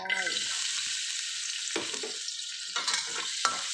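Garlic sizzles steadily in a hot pan, a continuous bright frying hiss broken by a few scraping stirs, close and fairly loud with no talking.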